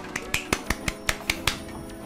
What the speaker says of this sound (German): Hier hast du sogar Applaus.